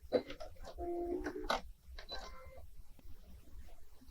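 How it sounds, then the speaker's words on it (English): A Brother sewing machine stitching a mock serging edge finish, heard close and fairly quiet as bursts of rapid mechanical clatter separated by short pauses, with no voices. "this machine does a beautiful job of the mock serging"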